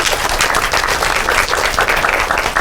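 Audience applause, a dense burst of clapping from a group that holds steady and loud throughout, with no one speaking over it.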